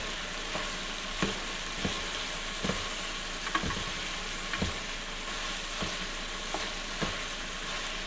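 Chorizo fries in its own grease with a continuous sizzle, while a utensil scrapes and stirs in regular, distinct strokes roughly every half second to second, close and fairly loud.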